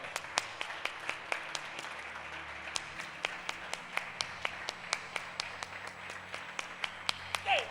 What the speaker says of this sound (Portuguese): Você pode dar uma salva de palmas para Jesus, irmão?